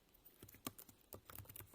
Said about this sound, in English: I'm not typing well